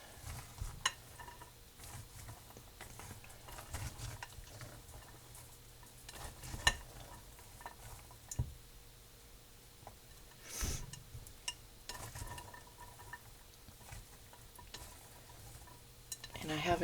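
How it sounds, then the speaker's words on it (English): Turkey hash being stirred in a pot for canning, with faint scraping and clinking of a utensil against metal, soft and intermittent, with a louder clatter now and then against quiet kitchen background. "So make sure you have it all stirred up."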